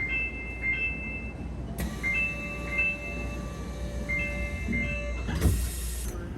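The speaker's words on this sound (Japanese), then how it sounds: "ちょうどよく電車がやってきてくれました。" A Kyoto subway Karasuma Line train pulls into the station with a steady low rumble, high electric motor whines rising and shifting over several seconds, and a sudden burst of hiss or air release near the end.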